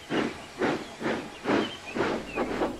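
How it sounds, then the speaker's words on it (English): A steam engine puffing out of its shed, giving about six loud, close, rhythmic hissing chuffs of steam at a steady pace. "Soon his crew had steamed him up, and he puffed out of the shed"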